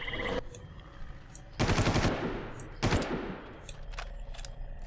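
Two loud, close bursts of automatic gunfire ring out in the jungle shooter Far Cry, separated by about a second, with softer distant shots and ambient noise around them.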